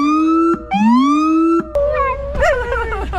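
A police car siren wails in rising and falling sweeps, loud and close, and dogs soon join in with wavering howls that follow the siren's pitch.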